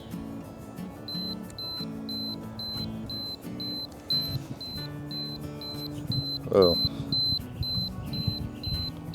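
A Canon AE-1 35mm film camera's self-timer gives a steady run of short, evenly spaced electronic beeps, close and clear, over a rumbly outdoor background with someone speaking briefly nearby.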